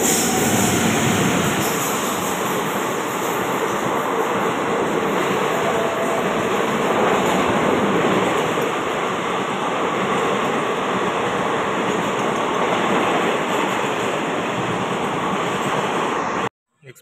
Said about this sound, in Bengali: এক্সপ্রেসটা একবার মুখে ধুলো দিয়ে চলে গেল